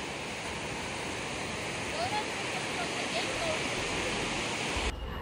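Sea waves wash onto the shore in a steady, broad roar that stays continuous and fairly loud throughout, with no voices heard.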